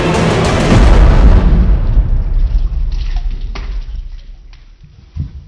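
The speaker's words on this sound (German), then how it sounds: "Da ist mir doch glatt so ein Wassertropfen in meiner Pfanne geblieben und ich habe das nicht gesehen und das ist voll explodiert." Water droplet bursting in hot frying oil in a pan while cooking a breaded pork chop, a loud sudden pop and sizzling burst that fades into crackling, with a smaller spit near the end.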